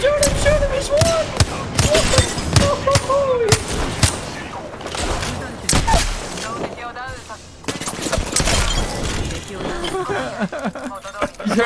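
Continuous rapid gunfire from an Apex Legends firefight, with bursts of automatic weapons overlapping loud, close shots, under excited player voices talking over the action.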